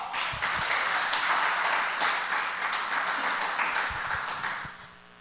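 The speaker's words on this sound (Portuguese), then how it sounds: "Você pode aplaudir ao Senhor?" A church congregation applauds during a women's service, sustained clapping from many people at a fairly even level that tapers off in the final second.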